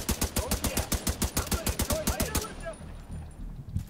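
Rapid automatic gunfire from The Division 2, a loud, evenly spaced burst of about twenty shots lasting two and a half seconds, then cutting off into quieter game ambience with a few faint thumps.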